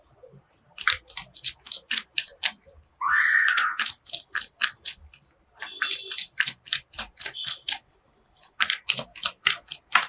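Tarot cards being shuffled by hand in a quick run of crisp riffling and slapping bursts, fairly close and loud, with a short gap near the middle and no talk over them.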